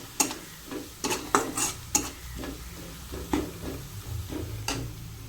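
Homemade masala being stirred into a frying soybean curry, with a spoon scraping and clinking against the pan in several sharp strokes over a steady low sizzle, close by and with no talking.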